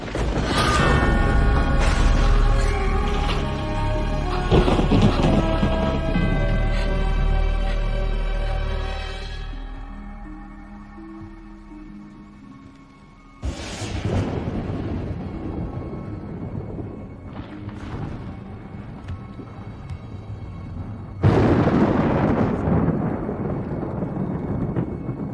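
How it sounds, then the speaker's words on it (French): Thunderstorm in a French horror film: a heavy, roaring rumble gives way to sudden loud cracks of thunder that roll and fade, with no voices. "Tu as peur de l'orage?"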